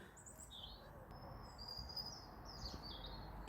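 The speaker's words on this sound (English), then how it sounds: "How nice is it to hear the birds?" Faint birdsong drifts in from outdoors, a few chirps and short warbling phrases over a soft background hiss.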